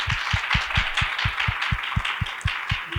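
Room audience applauding together, a steady wash of hand claps with a faint regular low thump running underneath for a few seconds.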